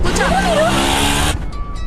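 Auto rickshaw engine running loud and steady for over a second, with a voice speaking over it before the sound cuts off abruptly.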